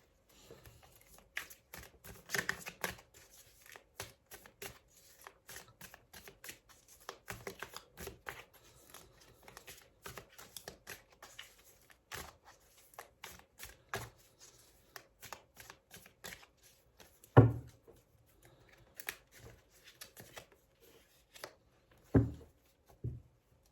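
Tarot cards are shuffled and handled for a reading, with soft, quiet riffling and flicking patters running in irregular bursts, plus a few sharper slaps near the end.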